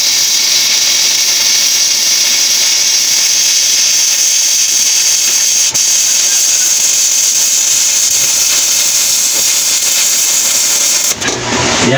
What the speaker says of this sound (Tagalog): Yan yung first pass natin na A6011 ang electrode.